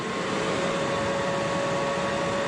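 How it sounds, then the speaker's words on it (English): A new welder's cooling fan whirs steadily, a constant close mechanical hum with a sustained tonal whine, even and unbroken throughout with no talk. "Bit of fan whirring"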